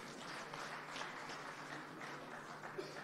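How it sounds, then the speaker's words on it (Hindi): An audience applauds Dr. Sudha Yadav as she arrives on stage at a news channel session, a steady, somewhat distant wash of clapping that holds evenly throughout. "एक बार जोरदार तालियां सुधा यादव जी के लिए"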